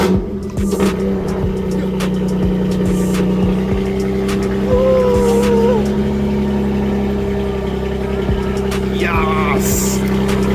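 A Mini Cooper engine with its exhaust valves open runs at a steady, close, droning idle with a low rumble throughout, plus scattered clicks and faint background voices.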